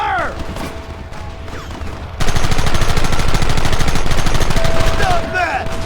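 Gunfire in Red Dead Redemption: after a quieter stretch, a dense, loud volley of rapid overlapping shots erupts and keeps going without a break, with a few whizzing ricochet-like sweeps near the start and end.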